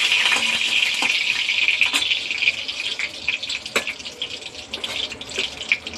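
Five-spice tempering and curry leaves frying in hot oil for a vegetarian curry, a bright continuous sizzle with scattered pops and crackles that eases slightly toward the end.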